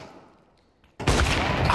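Gunfire in a Counter-Strike match between Pain and Virtus.pro on the Dacha map: after a near-silent stretch, a loud burst of shots and impacts breaks in abruptly and fills the second half.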